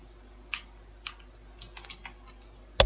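Code is typed on a computer keyboard in sparse clicks, a handful of separate key presses and a short quick run, close and quiet with no talk.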